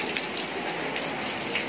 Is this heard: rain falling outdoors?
yes